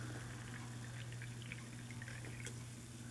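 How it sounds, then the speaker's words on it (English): New aspartame-free Diet Pepsi is poured into a glass, a faint liquid trickle with small fizzy drips and pops over a low steady hum. "I'll know a little bit more once I pour it in here"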